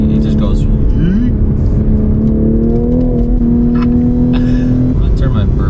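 A tuned Toyota Supra accelerating hard at full throttle, its engine note climbing steadily in a loud, sustained pull heard from inside the car.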